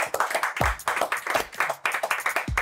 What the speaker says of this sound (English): Y'all clap for him. Please clap for him.